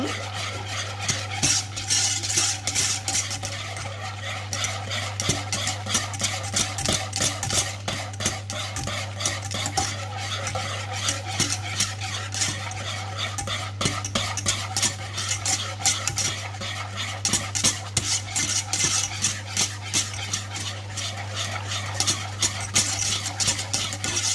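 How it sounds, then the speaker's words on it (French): Chocolate cream stirred continuously in a pan as it heats toward a boil, with rapid rhythmic scraping of a utensil against the pan over a constant low hum. "il faut bien remuer jusqu'à ébullition"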